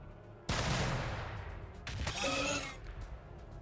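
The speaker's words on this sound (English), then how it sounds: "Firing grenade volley." Grenade volley in the strategy game Warhammer 40K Battlesector: a sudden loud blast bursting into a roaring rush, then a second crackling explosive wave a moment later that fades out.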